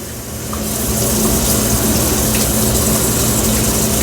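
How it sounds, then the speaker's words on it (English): Water gushing steadily from a tap into a pot, a continuous rushing splash that swells slightly at the start and holds steady, close by. "Let's put water in the"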